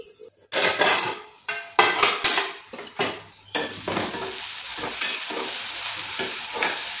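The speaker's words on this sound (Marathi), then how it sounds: "सगळं कांदा टोमॅटो आपला परतून झालेला आहे" Onion, tomato and ginger-garlic paste sauté in oil while a spoon scrapes and knocks against the pan in irregular clattering bursts, then a steadier sizzle takes over, with no one speaking.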